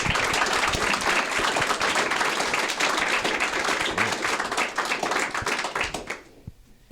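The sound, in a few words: audience applause for the panelists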